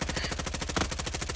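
Rapid automatic submachine gun fire in a first-person shooter game, a steady stream of close, loud shots with no break across the whole burst.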